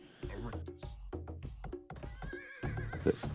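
A horse whinnies loudly and shrilly in the video game Age of Empires, followed by a few clopping hoof sounds and another brief neigh, close and clear.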